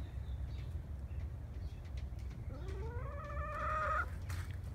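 Easter egger chickens in a covered quarantine pen give a rising, drawn-out cluck or squawk near the end, heard fairly close over steady low background rumble.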